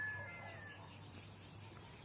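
Birds call outdoors on an afternoon walk through open country with cattle about, a few faint, brief chirps near the start over a constant high hiss of background sound.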